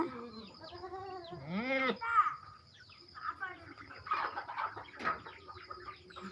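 Goats on a farm garden bleat, with one wavering, rising and falling bleat standing out among scattered animal calls. People talk over the goats throughout.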